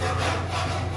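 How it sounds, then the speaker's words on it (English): Old glue scraped up off a surface during an office renovation, a continuous rough rasping scrape that stays loud and even for the whole second, with no talking. "scraping up the glue"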